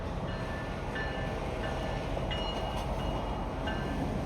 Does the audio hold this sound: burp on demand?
no